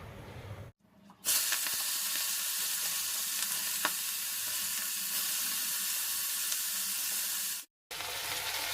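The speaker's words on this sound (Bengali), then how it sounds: "চিংড়ি মাছটা ভাজা হচ্ছে" Prawns frying in hot oil in a home kitchen, a loud, bright, hissing sizzle that holds steady for several seconds, with a faint quieter stretch before it and a short break near the end.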